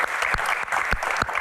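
An indoor audience at a year-end Q&A event claps together in a steady patter of hands with a few sharper, louder claps, moderately loud and close, with no talking over it.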